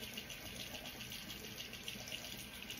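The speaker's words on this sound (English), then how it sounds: "Oops, let me turn off the water." Tap water runs steadily into a sink, a continuous hissing gush at moderate level with no talking.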